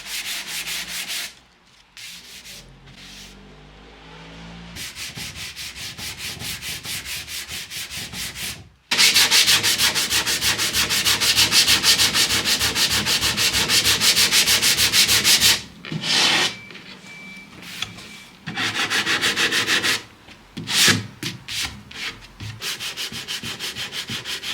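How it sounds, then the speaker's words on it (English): Dried wood filler on a walnut Art Deco bureau from the 1930s being sanded by hand with 240 grit sandpaper, rapid rhythmic back-and-forth scratching strokes in long bursts separated by brief pauses, close and clear. "I then go over all the wooden surfaces with 240 grit"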